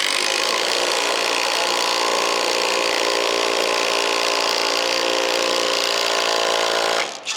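An impact wrench drives a concrete screw into a drilled hole in a steady, loud, continuous burst of hammering whir that slows and cuts off abruptly at the end.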